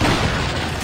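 A single heavy gunshot booms in Resident Evil 4 HD at Salazar's castle, the blast breaking the shields of two enemies at once, filling the short moment with a dense, loud rumble.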